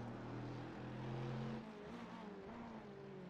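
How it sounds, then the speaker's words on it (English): Race cars in iRacing around the Nürburgring, exterior engine sound of surrounding GT3 cars, steady droning engines that shift pitch midway, fairly quiet and with no one talking. "So I do have exterior sounds of the surrounding car"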